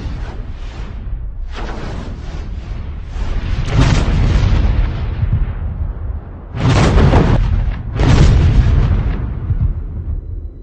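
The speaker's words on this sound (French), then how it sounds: "lorsqu'il a délivré le feu, le César s'efface de la position de tir avant même que ses obus atteignent leur cible" CAESAR self-propelled howitzer firing artillery shells: a series of deep, loud booms with sustained rumbling, the strongest blasts landing in quick succession near the end, with no voices.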